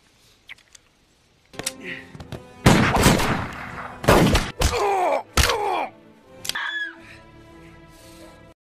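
Gunfire in an action film: several sharp, loud shots in irregular bursts mixed with groans and strained voices, with brief quiet gaps between the blasts.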